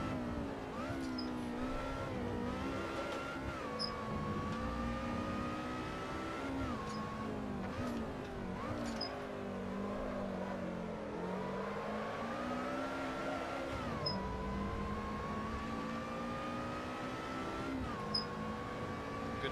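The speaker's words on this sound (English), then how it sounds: "I like it when it hits the rev limiter. It makes a weird noise." A Lotus Lightweight race car in Assetto Corsa revs hard through its gears, the engine note climbing repeatedly to a buzzing rev limiter, loud and steady with brief tire squeal and no talk.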